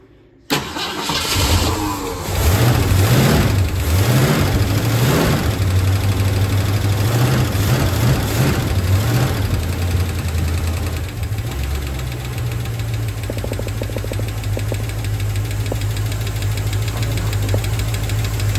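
A 1966 Ford Mustang GT engine, restarted after ten years parked, starts and runs loudly and steadily, a rough, throbbing idle close to the microphone with no talking.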